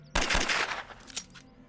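A short, loud burst of rapid automatic gunfire from a Kalashnikov rifle in an early build of the video game S.T.A.L.K.E.R., a quick volley of shots fading out in under two seconds.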